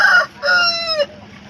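A rooster, a Bersa chicken, crows at the Pileru poultry market, loud and close: a short opening burst, a brief pause, then a long drawn-out crow that falls off sharply, with no voices over it.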